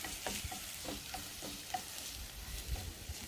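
Onions fry in a pan for chicken masala, giving a steady close sizzle with periodic stirring scrapes and light spatula clicks, no talking over it.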